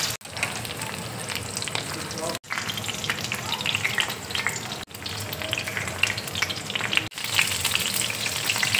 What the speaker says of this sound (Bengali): এবার দেখো বাঁধাকপিগুলো আমি তেলের মধ্যে দিয়ে দিচ্ছি। এই রান্নাটা কিন্তু দেখো আমি শ্যালো ফ্রাই করব।